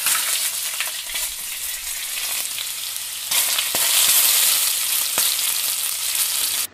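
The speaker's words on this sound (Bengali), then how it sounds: "রসুন বাটা দিয়ে 1 মিনিট মতো নেড়ে চেড়ে ভেজে নিয়ে দিয়ে দিচ্ছি দুটো মিডিয়াম সাইজের পেঁয়াজ বাটা" Garlic paste and onion paste fry in a pan for a Bengali-style egg and potato curry, giving a loud, steady sizzle that swells after a few seconds, with faint stirring clicks and no talking.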